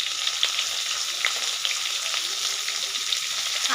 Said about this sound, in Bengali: দিয়ে আলুটা একটু ভেজে নিচ্ছি।